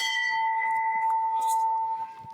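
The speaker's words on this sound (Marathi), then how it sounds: "जरा घंटा हळूच वाजव" A temple bell rings with a sustained, clear metallic tone that hangs steadily and fades slightly toward the end, with faint background movement and a brief voice-like sound underneath.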